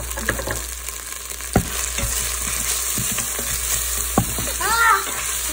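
Spoon stirring chana dal with hing in a cooking pot, giving a steady low sizzle with a few sharp scrapes and knocks against the metal, close and without speech.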